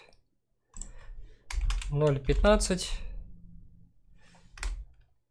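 Computer keyboard keys tapped in a quick cluster of clicks while a voice briefly reads out a number, close and moderately loud, with a final isolated keystroke.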